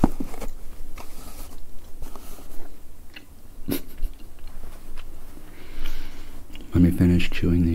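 Close-up chewing and crunching of winter holiday candy, with soft wet bites and occasional crisp snaps spread through a quiet, intimate space and a brief rustle near the end.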